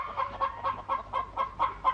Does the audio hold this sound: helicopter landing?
no